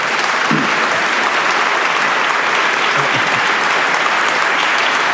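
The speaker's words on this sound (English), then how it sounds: "Give a great round of applause." Dense, continuous audience applause fills a hall at a mental health forum, loud and steady throughout, honoring a Vietnam War veteran, with no speech over it.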